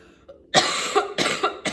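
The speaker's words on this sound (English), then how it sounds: "Sorry, I'm a little under the weather, so I'm coughing." Three harsh coughs from a person who is under the weather, each a sharp close burst followed by a short rasp, spaced evenly and with no talking.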